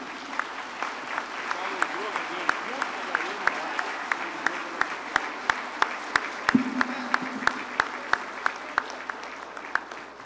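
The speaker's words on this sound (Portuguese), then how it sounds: "pedir todos de pé para aplaudir o ministro e a presidenta" A standing audience at the opening ceremony of the 26th Abrasel National Congress applauds the minister and the president, with sparse, soft clapping spread across the room, a few sharper near claps, and a voice talking through it.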